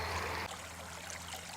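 Steady creek water streams past a gold-prospecting sluice on a Georgia claim, a continuous broad rushing and trickling wash that stays faint and even throughout, with no voices.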